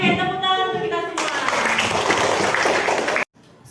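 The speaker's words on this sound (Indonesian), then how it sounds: "tepuk tangan untuk kita semua" A classroom group bursts into applause, a dense wash of clapping hands that starts after a brief stretch of voices, fills the room loudly for about two seconds, then cuts off abruptly.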